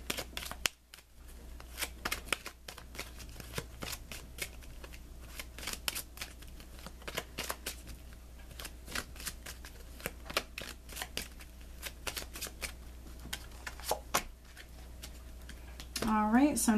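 Tarot cards shuffled and handled with repeated crisp riffling and slapping throughout, close and fairly soft, with a voice speaking only now and then.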